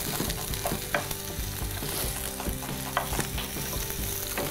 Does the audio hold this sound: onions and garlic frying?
yes